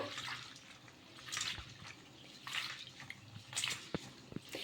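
Peanuts and sago washed in water by hand, faint sloshing and swishing in bursts with small drips between, quiet and close.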